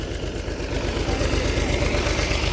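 A tractor engine idles in a wheat field, giving a steady, close, low throbbing rumble with an even pulse that runs without a break.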